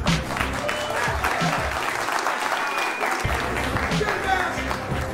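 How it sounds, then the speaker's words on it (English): Crowd applause at a Clash Royale tournament as quarterfinalists are announced, a loud, steady roar of clapping that fills the whole stretch, with a brief dip midway and voices mixed faintly into the noise. "Round of applause for our next quarterfinalists."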